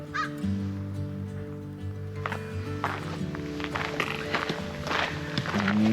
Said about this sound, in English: Even the crow is telling him hurry up.